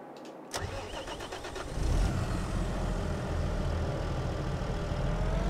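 A tractor engine in the Farming Simulator 22 video game cranks after a short silence, catches, and revs up into a loud, steady low drone that continues to the end.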